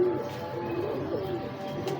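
A pigeon's soft cooing close by, low murmuring calls over a quiet background with no talk.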